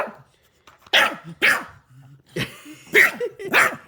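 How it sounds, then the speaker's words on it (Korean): A dog barks nearby in four loud, sharp bursts spaced by short pauses, with a faint low rumble between them. "너 짖지 마, 안 돼, 짖지 마."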